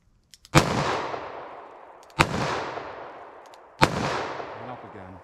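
Three loud gunshots from a revolver firing Sellier & Bellot .410 000 buck shells in double action, each a sharp crack with a long echoing decay, spaced about one and a half seconds apart, with small clicks before the first shot.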